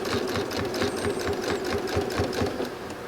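A sewing machine stitches a quilt seam in a quick, even run of close, rhythmic mechanical clatter that holds steady throughout.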